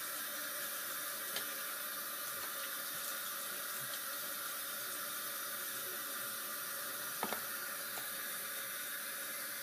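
Water runs steadily from a tap into a sink while someone washes one side of their face, a soft continuous hiss with a couple of faint splashes and taps.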